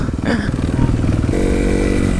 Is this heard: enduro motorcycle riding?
yes